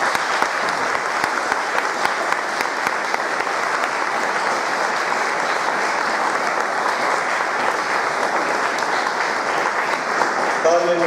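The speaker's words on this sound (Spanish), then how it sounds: "Vamos a recibir a Darío con un aplauso al Señor." A church congregation claps in steady, dense applause that fills the full eleven seconds without a break, with a faint voice near the end.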